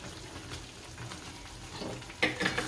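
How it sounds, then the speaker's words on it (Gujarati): Gundar paak mixture being stirred in a pan, a soft continuous sizzle with light scraping that grows into a few sharper clinks toward the end, close and quiet. "આને ભેળવી નાખશું અને હલાવી નાખશું હારું"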